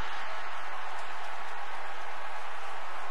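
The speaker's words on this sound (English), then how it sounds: "And that excites the LSU crowd." LSU football crowd in a packed stadium roaring after a blocked field goal, a steady wall of cheering and applause with no clear break.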